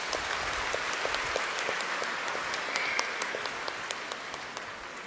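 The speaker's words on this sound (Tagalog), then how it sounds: "Pwede bang pumalakpak?" A congregation at a Simbang Gabi Catholic Mass claps together, a broad continuous patter of many hands with a few sharper individual claps standing out, moderately loud and steady throughout.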